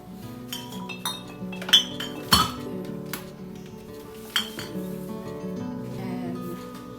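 Glass bottles of apple cider and balsamic vinegar clink against each other and a shelf as they are grouped in a kitchen cabinet, several sharp knocks and rattles at close range over low background clatter.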